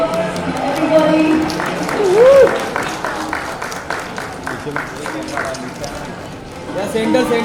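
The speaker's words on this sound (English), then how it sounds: "Big round of applause, everybody." An audience at an award ceremony and panel discussion claps in a dense, steady patter of applause. Voices and cheers run over the clapping, and the applause holds near the same level for the whole clip.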